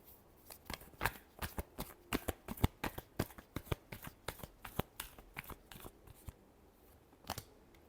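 Tarot cards shuffled by hand at close range: a long series of crisp, snappy card riffles and slaps, roughly two or three a second, then sparser taps toward the end, with no talking.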